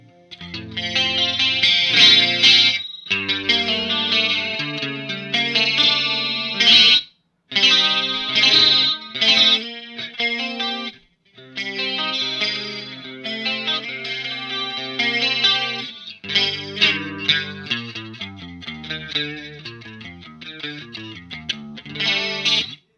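Electric guitar on a clean channel through an MXR Analog Chorus pedal set for sparkly chorus plays melodic chord phrases and arpeggios, shimmering and wavering, clear and bright, with brief pauses between passages.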